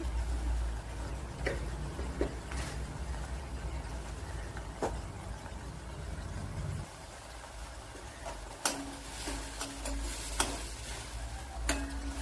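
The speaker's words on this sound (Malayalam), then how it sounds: "ഇത്രയും കൂടെ ഇട്ട് കൊടുത്ത് നല്ലതുപോലെ ഒന്ന് ഇളക്കിയെടുക്കുക" Masala dosa filling with onion paste and chili powder stirred in a pan, giving a steady low sizzle broken by occasional sharp scrapes and taps of the spoon against the pan.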